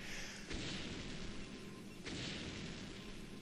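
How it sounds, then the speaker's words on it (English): Photon cannon and siege tank fire in StarCraft, a dense rumbling barrage of booming blasts with two sharp bursts standing out over a continuous roar of battle. "battlecruisers just simply don't fall to cannon fire as much, and especially when you have tanks doing your bidding as Szar does here"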